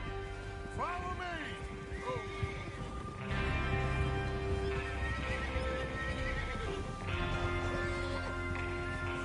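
Horses whinny and snort close by in Red Dead Redemption II, with hooves clopping and a steady ambient hum beneath; no talking.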